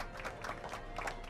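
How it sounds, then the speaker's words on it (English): Crowd applause from the Back to the Future video game, episode five: a steady, even wash of clapping that holds at moderate level for the whole stretch, with no break or build. "How about a round of applause just for the heck of it?"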